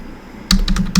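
Several quick keystrokes on a computer keyboard, close and fairly loud, arriving in a short irregular burst after a moment of near silence, with no voices.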